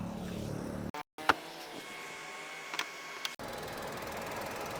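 A Tata Punch i-CNG engine idles with the bonnet open, giving a steady, quiet mechanical hum with a few faint ticks, briefly cut out once near the start.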